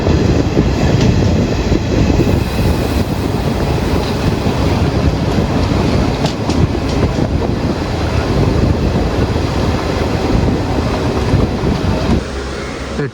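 Kozhikode Jan Shatabdi Express heard from onboard as it runs through Kerala, a loud continuous rumble of wheels and carriage with rattling and faint clickety-clack that persists throughout and eases slightly at the very end.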